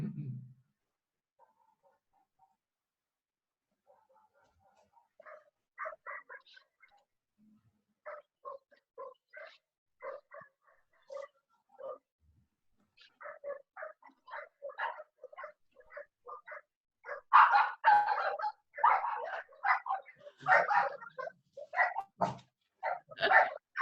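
A dog barks through an open microphone during a live online class, first a few faint yips, then repeated barks growing louder and denser toward the end, heard close and without talk.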